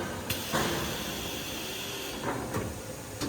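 The main cylinder of a coin minting machine for gold and silver coins moves up with a steady pneumatic hiss and a couple of soft clunks and clicks, close by, with no talking.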